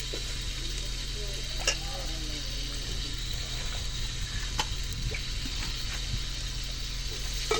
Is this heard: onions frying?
yes